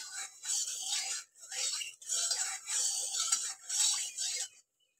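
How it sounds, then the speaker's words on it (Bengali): A knife cuts onion and green chili in a kitchen, giving a series of soft rasping, scraping strokes in repeated bursts separated by brief pauses, faint and close. "আমি এদিকে পেঁয়াজ আর লঙ্কাটা কেটে নিচ্ছি।"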